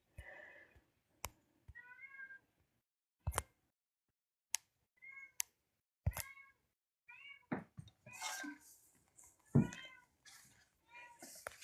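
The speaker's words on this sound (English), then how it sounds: "She keeps meowing at me." A cat meows repeatedly in short, plaintive calls, close by, with sharp knocks between them and a bit of speech near the end.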